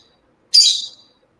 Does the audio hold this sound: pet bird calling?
yes